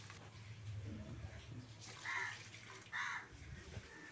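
Water poured into a pan for making Maggi noodles in a home kitchen, a soft continuous splashing pour with two brief louder surges, under faint background noise.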